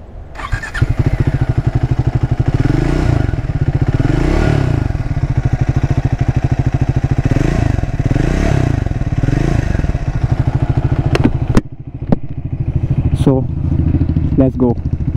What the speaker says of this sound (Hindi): First, listen to the exhaust note.